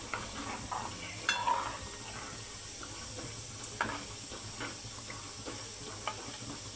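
Malvani-style surmai fish curry masala being stirred with water in a pan, steady scraping and gentle sizzle with a few sharper clinks of the spoon against the pan.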